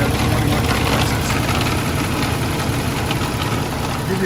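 A 2015 Kenworth T660 truck with an MX 485 engine idles steadily with a deep, even diesel rumble and a faint rattle, close and continuous with no talk.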